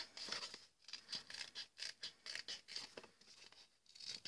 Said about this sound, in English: with a pair of scissors we will cut our